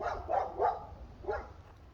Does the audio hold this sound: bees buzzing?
no